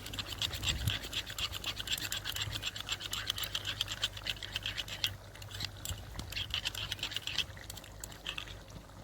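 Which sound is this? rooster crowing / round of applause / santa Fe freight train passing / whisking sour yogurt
whisking sour yogurt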